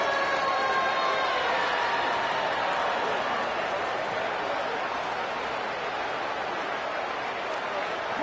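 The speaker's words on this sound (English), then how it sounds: "The loudest jet you can think of has nothing on this crowd as they try to help the Falcons on 3rd down" Huge football stadium crowd roaring for the Falcons on third down, a dense, sustained wash of cheering and noise that holds steady throughout at a distance.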